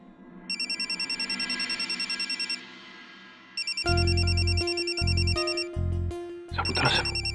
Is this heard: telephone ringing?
yes